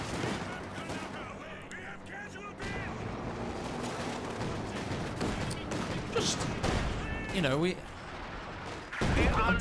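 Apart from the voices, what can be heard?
StuG assault gun firing projectiles in a video game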